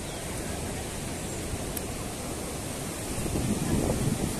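Waves from a large open sea wash steadily onto the shore, forming a broad, continuous roar mixed with wind that grows a little louder near the end.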